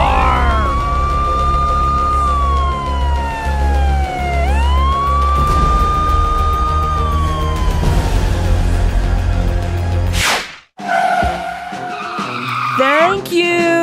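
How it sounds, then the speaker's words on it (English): A police siren wails up and down loudly over a rumbling engine, then tires screech and the siren whoops again at the end. "Go, police car!"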